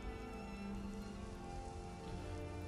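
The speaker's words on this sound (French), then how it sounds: "Il pleut." Rain in Skyrim, a steady soft patter of drops on surfaces, continuous and even with no speech.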